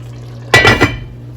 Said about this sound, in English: Let's give it another stir.